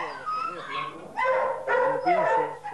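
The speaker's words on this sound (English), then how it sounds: "When it's out of season, the dogs are kept in kennels and they're taken out for exercise." Hunting dogs kept in kennels yelp, whine and bark over one another in a close, busy chorus, with a voice talking over them.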